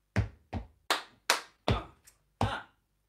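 Seven crisp hand claps, close and dry, land in an uneven rhythm with short pauses between them during a beginner body percussion exercise. One clap is noticeably softer than the others.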